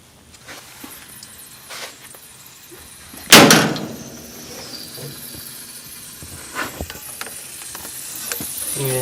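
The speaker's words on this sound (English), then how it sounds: "So we're gonna pump it up to about maybe 14, 15 pounds and see if she don't blow" A hand pump pressurizes a car's coolant system for a pressure test in a shop, giving sparse mechanical clicks and ratcheting strokes with one sharp, loud hissing burst partway through, otherwise fairly quiet with no talking.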